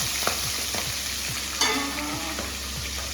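Onion and green chilli frying in a pan, a steady close sizzle with a few soft stirring scrapes and one brief louder burst partway through.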